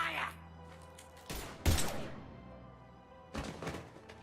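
Gunfire in the Mass Effect 3 video game, a few sharp heavy shots bursting out in separate clusters over a low ambient hum, with a voice briefly present.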